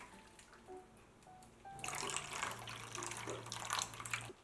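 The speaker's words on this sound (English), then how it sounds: "place the cake pan in a deep tray like this and fill it with hot water about 2 centimeters" Hot water pours from a kettle or tap into a deep baking tray around a cake pan for a water bath, a steady splashing stream after a few faint clinks.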